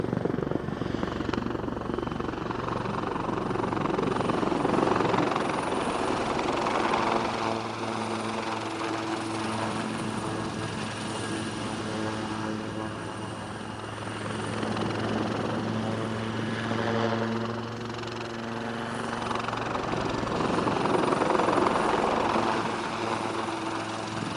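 A Royal Navy Wildcat helicopter flying an airshow display, its rotor and turbine drone steady and loud throughout, swelling and easing as it manoeuvres, with a faint announcer's voice in the background.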